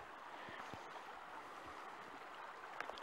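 A creek flows through a redwood forest in a faint, steady trickling wash, distant and even, with no voices.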